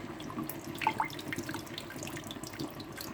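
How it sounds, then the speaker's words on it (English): Boiling water splashes and trickles steadily, poured from close by over a glass spice jar, with a continuous liquid rush and small bubbling spatters. "Just going to put some boiling water on it"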